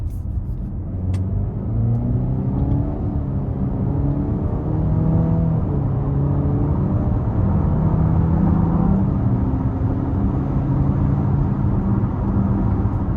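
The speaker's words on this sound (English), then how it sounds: "we're gonna give it a quick pull here. Not gonna floor it, we're gonna give it something" A 2026 Cadillac XT5 in all-wheel-drive mode pulls hard under moderate throttle, its engine note climbing steadily through rising harmonics over a constant road and tyre rumble, close and continuous with no talking.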